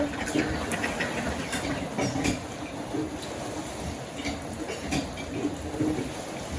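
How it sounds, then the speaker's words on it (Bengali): Steady rain falls continuously in a Bangladeshi village, a dense hissing patter with a few louder drips, no voices. "কমে নেই বৃষ্টি পড়তেছে"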